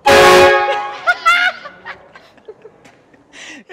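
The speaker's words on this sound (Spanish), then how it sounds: "el claxon es de barco" A loud, deep ship horn fitted to a car blasts at the start, followed by snickering laughter and scattered voices.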